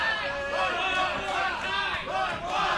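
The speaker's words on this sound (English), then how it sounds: "Oh, listen to the crowd." A pro wrestling arena crowd at an AAPW event cheers and roars loudly and continuously, with surging waves of shouting voices across the whole stretch.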